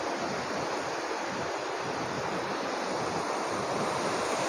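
Satluj river water rushing through the headworks at Islam Headworks near Hasilpur, a loud, dense, unbroken roar of flowing water with wind buffeting the microphone, no voices.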